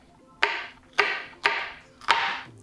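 A dull kitchen knife chops through peppers on a cutting board, four separate thudding cuts about half a second apart, close and distinct, with no talking.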